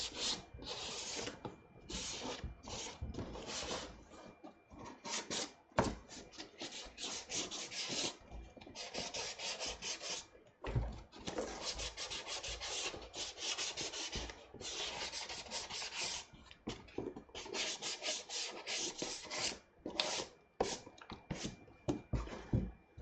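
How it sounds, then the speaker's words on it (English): Sandpaper rubbed by hand over a Halo Spartan armour chest piece, a close, quick run of scratchy strokes in uneven bursts with short pauses, going on throughout. "Where'd that bit of sandpaper go?"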